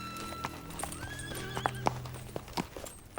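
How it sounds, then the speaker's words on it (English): A horse returning on its own in a Western setting, hooves clip-clopping in an uneven close rhythm with a whinny partway through, over quiet background. "I knew your horse would come back on his own."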